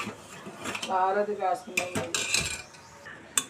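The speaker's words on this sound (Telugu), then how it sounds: "సగ్బియ్యం వేసిన తర్వాత ఇలా గరిటలో కలుపుకోవాలి" A ladle clinks and scrapes against a pot while sago pearls are stirred into boiling water for rice flour papads, with a few sharp metallic knocks among the stirring and a voice talking partway through.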